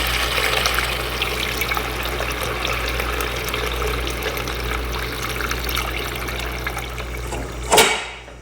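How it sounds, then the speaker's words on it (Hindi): Water pours steadily into a cooking pot of potatoes and meat for aloo gosht, a continuous trickling splash lasting several seconds, close by, ending with a brief louder clatter near the end; no one speaks. "अब हम पानी डाल रहे हैं।"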